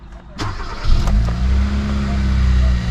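A Hyundai car with a catalyst-efficiency fault code cranks and fires up, then settles into a steady, loud, low idle close by.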